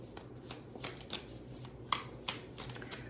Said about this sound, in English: I'm going to get also one of these graffiti deck cards